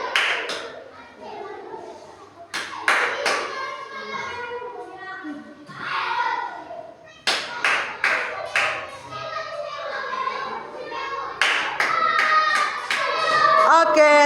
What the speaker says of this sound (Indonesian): tepuk tangan dulu untuk robot Steven dan programmernya Diani